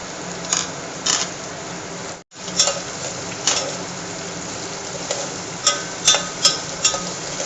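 Green chillies and onions frying in a pan: a steady low sizzle under repeated sharp clicks and scrapes of a spoon against the pan, close and fairly loud.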